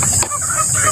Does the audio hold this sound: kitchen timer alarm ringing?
no